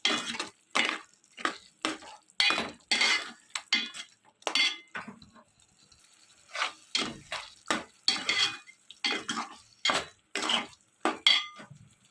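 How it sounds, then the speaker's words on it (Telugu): Chicken pieces being mixed with a tablespoon of ginger garlic paste in a pot for chicken curry, a steady run of metal spoon scrapes and clinks against the pot in uneven bursts, close and fairly loud, with no talking. "1 టేబుల్ స్పూన్ అల్లం వెల్లుల్లి పేస్ట్ వేసుకుని ఇదంతా బాగా మిక్స్ చేసుకోండి."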